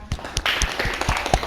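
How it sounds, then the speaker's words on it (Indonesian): A handful of claps in a classroom, about six sharp hand claps spaced unevenly over a second and a half, fairly close and moderately loud with a faint room murmur underneath. "Ya, tepuk tangan."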